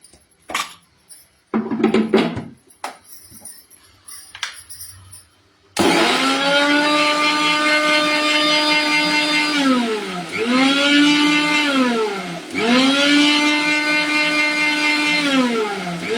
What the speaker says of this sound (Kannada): ಈ ರೀತಿ ಮಾಡಿಕೊಂಡು ಮಿಕ್ಸಿ ಜಾರಿಗೆ ಹಾಕಿ ರುಬ್ಕೊಂಡ್ರಾಯ್ತು.